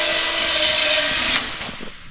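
A power drill whines loudly and steadily while boring through new metal brackets for a truck's rear mud flaps, then cuts off abruptly and spins down.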